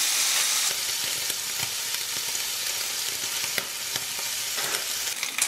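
Wafer-thin slices of burger meat fry in a hot pan, giving a steady, close hiss and crackle with a few sharper spits and pops throughout.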